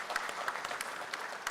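An audience at a quiz show semifinal applauds for a team placed fifth, a steady patter of many hands, moderately distant and fairly quiet, with no voice over it.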